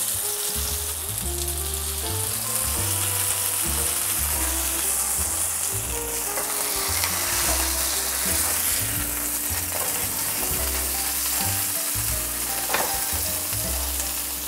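Burgers seasoned with basil and sriracha salt fry in a pan with a continuous loud sizzle and crackle, joined by occasional clanks of cooking utensils, and no voices.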